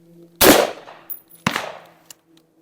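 A single loud gunshot from a home-built AR rifle, firing its first round on the first try, close by, with a sharp crack followed by a decaying echo and a second, softer report-like bang a second later.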